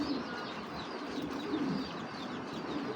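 A racer pigeon coos in soft, low repeated calls, close by, over a busy background with faint chirps from other birds.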